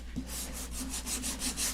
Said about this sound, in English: I'm going to sand through. I'm going to expose some wood.